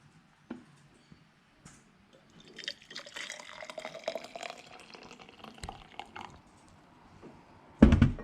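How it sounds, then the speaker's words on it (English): Hot water is poured into a glass jar holding a teaspoon of cornstarch for a kitchen science experiment, a close liquid trickle and splash lasting several seconds, followed by a sharp knock at the end. "Then we're going to add half a cup of hot water."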